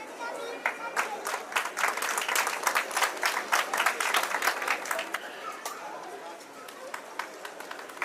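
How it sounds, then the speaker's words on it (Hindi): Audience at a cooperative credit society's annual meeting applauding to welcome guests, sustained rapid clapping for several seconds that thins toward the end, with a voice faintly heard over it. "जोरदार तालियां चलती रहनी चाहिए।"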